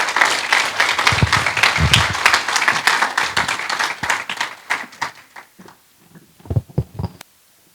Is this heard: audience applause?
yes